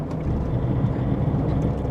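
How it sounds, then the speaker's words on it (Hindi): A Tata Tiago running on CNG with its petrol engine accelerates, giving a gruff, diesel-like drone: a steady, loud, low rumble that holds for the full two seconds with no talking. "जैसे पेट्रोल इंजन है, एक्सेलरेट करते हैं ऐसा लगता है कि डीजल इंजन आप चला रहे हो।"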